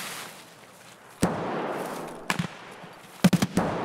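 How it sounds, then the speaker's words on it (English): Gunfire from a sniper scav in Escape From Tarkov: a few sharp, separated shots ring out over a quiet outdoor ambience, the last a quick cluster of two or three cracks, moderately distant and without talk. "Is that sniper scav shooting at us?"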